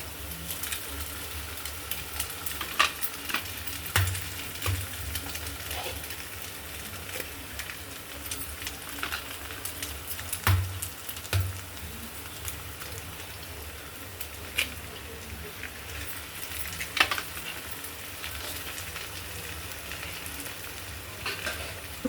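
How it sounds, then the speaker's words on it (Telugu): Three cracked eggs fry in a pan for an egg porottu, giving a continuous soft sizzle like light rain with occasional spatula scrapes and taps, close but fairly quiet and steady throughout, without speech. "పగలగొట్టి 3 గుడ్లు వేసుకుందాం."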